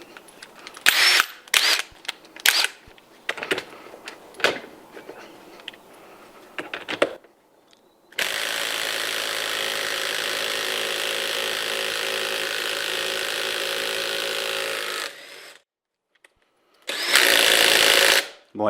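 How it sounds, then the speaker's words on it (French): Ryobi cordless impact wrench working to loosen a tightened nut: after scattered handling clicks and knocks, a long loud continuous hammering burst of about seven seconds, then silence and a second shorter burst near the end. "Maintenant, je vais essayer de le desserrer avec la Ryobi."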